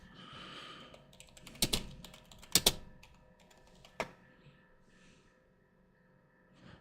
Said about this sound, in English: you might have to type it in the search box.